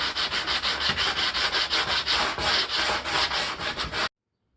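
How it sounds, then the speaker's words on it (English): Sandpaper held on a flat piece of wood rubs over a plastic cooling fan mock-up part for a Lincoln Mark 8, making steady, rhythmic back-and-forth scraping strokes, close and fairly loud, that stop abruptly. "A little bit of sandpaper and a flat piece of wood. I'll take out all the high spots"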